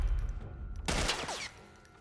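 A burst of machine gun fire in The Last of Us Part 1 video game, a brief mid-level rattle of rapid shots that rises abruptly and then tails off.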